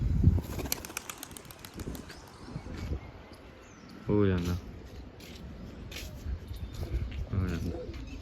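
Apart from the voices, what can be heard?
pigeons released, wings flapping and cooing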